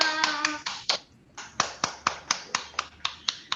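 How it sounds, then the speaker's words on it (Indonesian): Clapping for children during an Easter online worship session, a few distinct hand claps at a steady rhythm, close and fairly loud, with a brief tonal voice-like sound at the start. "Kita harus tepuk tangan dulu nih buat adik-adik kita semua."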